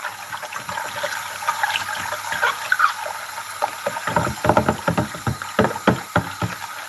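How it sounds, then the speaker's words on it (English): Water runs and splashes while a pump is washed out, a steady gushing flow broken by uneven sloshes and drips, fairly close and with no talking. "I'm washing the pump out."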